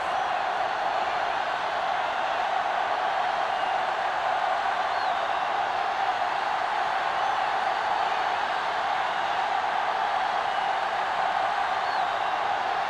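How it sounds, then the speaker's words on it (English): A large stadium crowd roars steadily at the kickoff of a season-opening football game, a continuous distant wash of cheering that stays level throughout. "the crowd in full throat as we get this new season started with the kickoff"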